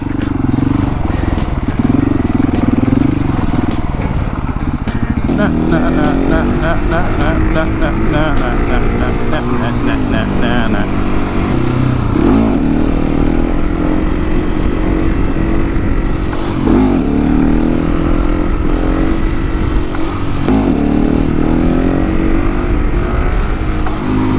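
701 motorcycle engine revving and roaring through repeated second-gear wheelies, loud and close with rising and falling pitch as the throttle opens and closes, with wind buffeting throughout.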